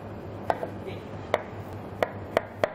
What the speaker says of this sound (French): Et je vais ciseler l'oignon.